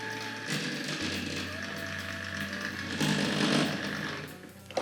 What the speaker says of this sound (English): I don't think that XO4 motor really likes that at all.